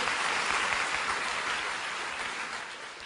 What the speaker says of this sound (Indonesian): Boleh tepuk tangannya di extend buat tim Praise and Worship.